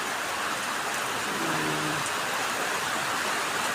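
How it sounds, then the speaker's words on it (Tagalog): Steady, heavy rain hisses continuously, a dense wash of drops with no pauses and no voices. "Sige ang ulan."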